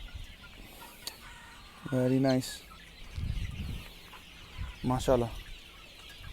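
White chickens and a white rooster on a poultry farm, clucking in a few short harmonic bursts between stretches of farmyard noise, close by, with someone speaking briefly over them.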